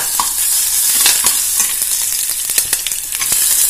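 Garam masala, ginger and garlic frying in hot ghee inside a pressure cooker, a loud steady sizzle with crackling pops and occasional stirring scrapes.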